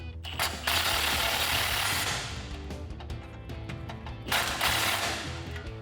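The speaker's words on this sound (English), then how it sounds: "we can take a 15mm socket on an extension and a swivel" A ratchet with a 15mm socket on an extension and swivel tightens an exhaust clamp on a cat-back exhaust, giving rapid clicking bursts in several close, loud spurts separated by quieter ticks.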